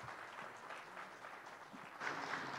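Audience at a conference plenary session on financial inclusion claps for participants, a faint, steady patter of applause heard from a distance that swells slightly near the end.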